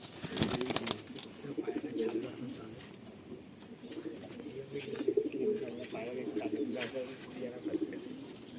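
Pigeons in a loft coo softly and repeatedly at a moderate distance, with occasional wing flaps and faint background voices.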